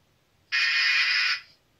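A single loud game show buzzer blares for under a second, marking that time ran out on a pricing game, alone with no talk.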